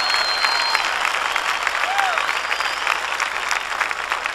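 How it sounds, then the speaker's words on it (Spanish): A church congregation claps for the Lord at a Spanish-language evangelical ministry service, dense, steady applause filling the hall throughout, with voices mixed into it. "Dale palmas al Señor de la gloria"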